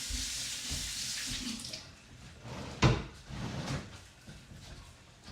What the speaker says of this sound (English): Oh, it's dirty. Let me just wash it off real quick.